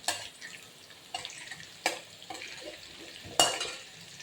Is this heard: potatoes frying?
yes